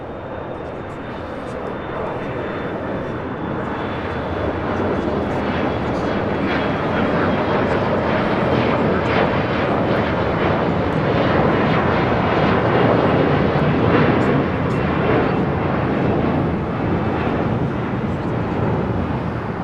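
A SkyWest Embraer E175 LR regional jet in American Eagle service takes off from the south side at LAX, its engine roar building to a loud, sustained rush that peaks and begins to ease.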